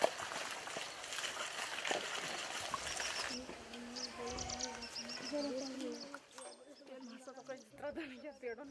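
Birds call and coo around small village ponds, several soft repeated songs and coos at moderate distance over a faint outdoor wash of water and wind, with a voice speaking.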